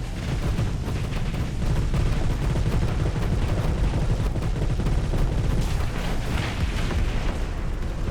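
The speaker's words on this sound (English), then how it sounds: "The second the missile barrage starts and just two of them melt" Missile barrage during a Starsector video game space battle: a loud, dense wall of overlapping booms and blasts rumbling continuously with no pauses.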